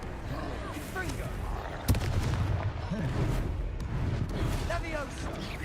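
The Confringo fire-blast spell in the video game Hogwarts Legacy, a sharp explosive burst among rumbling battle effects and crackling magic, with voices calling out over the combat.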